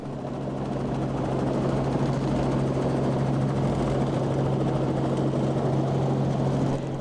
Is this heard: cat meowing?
no